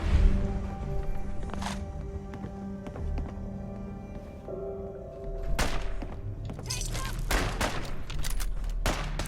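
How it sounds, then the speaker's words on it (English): Enemy gunfire in the video game Fallout 4, with scattered shots and thuds cracking out in bursts over a steady game background, getting busier and denser toward the end. "There's someone shooting."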